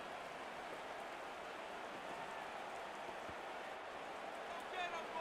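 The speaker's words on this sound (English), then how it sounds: "The rain set to continue as we are underway in the second half." Steady rain hisses across the field during a football video game broadcast of a Bears at Jets night match, a constant wash of even patter filling the background while commentary is underway.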